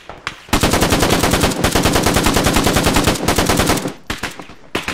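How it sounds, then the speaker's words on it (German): Heavy automatic gunfire in the military shooter game Arma 3 rattles out in long, dense bursts at close range, then breaks into a few scattered single shots near the end. "Wir sind aber unter starkem Beschuss,"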